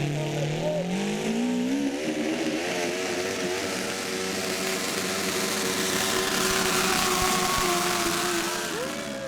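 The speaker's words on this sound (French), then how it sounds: "Un des seuls Garden européens équipés de 2 moteurs de moto Honda." A garden-class pulling tractor powered by two Honda motorcycle engines runs a tractor-pull track, its high-pitched engines wailing loud and close, the pitch climbing as the revs rise and holding in a sustained howl.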